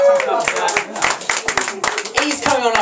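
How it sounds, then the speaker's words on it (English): A theater audience claps for a volunteer walking up to the stage, sharp scattered hand claps mixed with a voice talking over them, lively and close. "could you come up and give him a clap as he comes up?"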